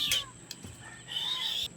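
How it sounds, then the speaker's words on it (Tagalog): A weak, hungry stray cat gives a short, thin meow up close, followed by a longer, higher plaintive meow, with faint background noise around it. "So parang nanghihina na siya guys, yung stray cat na to."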